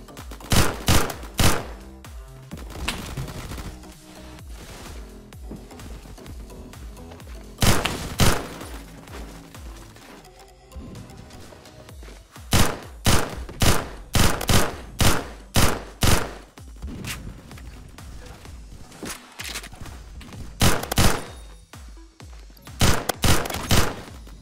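Sharp bursts of gunfire from the Roblox shooter Phantom Forces, loud clustered volleys of rapid shots separated by quieter gaps, with a long run of individual cracks near the end.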